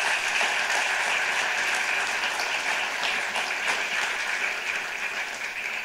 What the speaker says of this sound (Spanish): Un aplauso para el gran maestro.